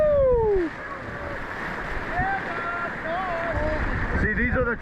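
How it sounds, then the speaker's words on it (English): Kayak paddle churning through rushing whitewater rapids on the Cemetery section of Colorado's Roaring Fork River, with a steady wash of water throughout and excited whoops and shouts from paddlers. "see how deep I can go with that paddle stroke?"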